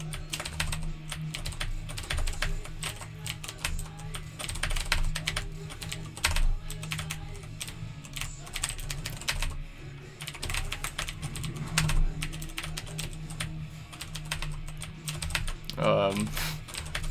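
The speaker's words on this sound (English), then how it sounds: "I still have a loud as fuck cherry blue keyboard, or cherry blue keys in my keyboard." Fast, continuous clicking of a mechanical keyboard with Cherry Blue switches during a gaming stream, dense keystrokes throughout at moderate volume over a steady low hum and faint background sound.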